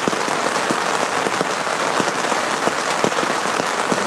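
Steady rain falls on a tent at a mountain camp at post 3 on Mount Cikuray, a dense even hiss with scattered louder drops tapping close by, no voices.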